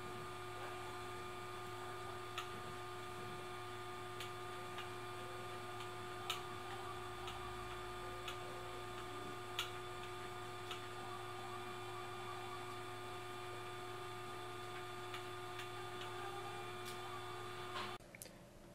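Steady hum and whir of an Amiga 2500 computer with a CD-ROM card installed, a constant fan-like drone with faint regular ticks, moderately quiet and unbroken.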